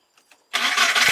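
An MK Indy kit car engine turns over and catches, then settles into a steady, loud, slightly low idle with a rough, even throb, heard up close and alone.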